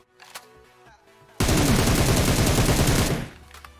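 Rapid automatic fire from an M7 rifle in PUBG Mobile: a loud, dense burst of about two seconds that opens abruptly after a quieter lead-in and cuts off sharply, close and alone.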